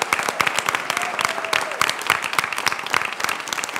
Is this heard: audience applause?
yes